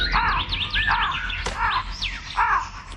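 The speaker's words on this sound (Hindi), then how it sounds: "सिपाही को देख कौवा कांव कांव करने लगा।" Several harsh bird calls repeat in quick succession, a crow cawing close by over a low background hum.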